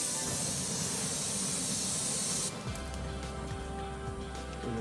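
Hot grill at over 600 degrees being sprayed before a Wagyu bone-in rib eye goes down, a loud close hissing spray that cuts off abruptly, leaving a quieter sizzle afterward.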